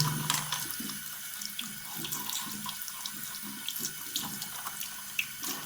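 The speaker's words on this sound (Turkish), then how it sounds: "muslukta yıkayacağım. Yıkıyorum yüzümdeki kireç kalıntılarını, kireç birikintilerini yıkıyorum." Running tap water splashes over a plastic toilet cistern float as limescale deposits are rinsed off, a steady close stream with small clatters of the part under the flow.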